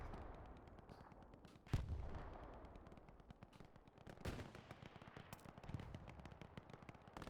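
Axis artillery and gunfire in a multiplayer war video game sound faint and distant, a continuous crackle of machine-gun bursts broken by a few heavier booming impacts spread across several seconds.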